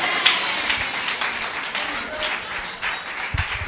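Applause from an audience at a university nursing and midwifery induction ceremony, a short burst of clapping heard over and between spoken voices.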